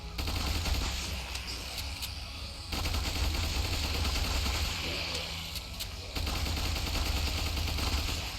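Continuous automatic gunfire while strafing in Ultimate Epic Battle Sim, dense rattling bursts with brief breaks, loud and close, mixed with a low rumbling battle din.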